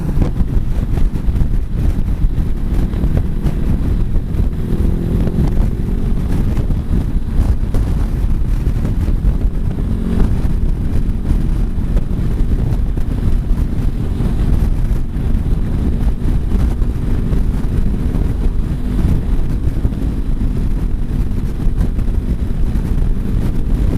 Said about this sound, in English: Very windy, but relatively calm.